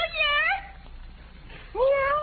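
A voice imitates a cat's meow twice, with a drawn-out, rising-falling tone on each call and a short quiet gap between them.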